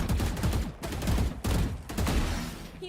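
Gunfire in a 2v2 esports tournament match comes in four rapid loud bursts separated by brief gaps, close and punchy, with no talk over it.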